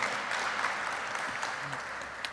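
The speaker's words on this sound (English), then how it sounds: "How about a big round of applause for our newest occupational medicine residency graduates?" Audience applause at a military occupational medicine residency graduation ceremony, a steady wash of many hands clapping at moderate distance, sustained through the whole stretch without voices on top.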